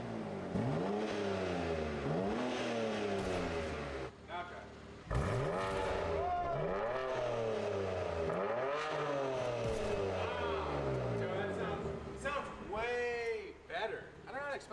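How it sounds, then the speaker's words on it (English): A car with an aftermarket exhaust, valves closed, revving repeatedly indoors in rising and falling sweeps with a deep tone, a person talking over it. "We'll give it a little rev."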